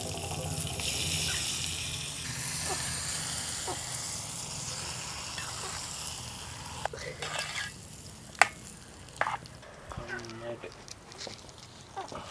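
Spice mixture with ground pepper and coconut is stirred into green jackfruit in a pan, giving soft wet stirring and sizzling that fade into clinks and a few sharp knocks near the end, with voices intermittently over it.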